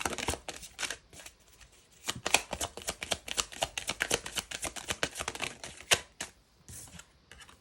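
Oracle cards are shuffled and drawn close up in a quiet room, giving rapid irregular flutters and riffling taps in short bursts with brief pauses and no talk.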